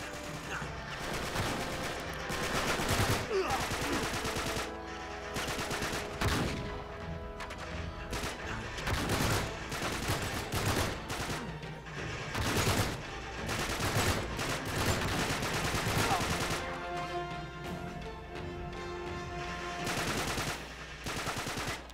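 Video game gunfire in Uncharted 3: Drake's Deception, repeated bursts of automatic fire and single shots spread across the whole stretch, dense and fairly distant in a busy combat mix.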